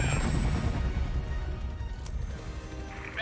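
Helicopter in the Call of Duty Black Ops Cold War video game, a steady loud rotor and engine drone with low throbbing, heard up close throughout.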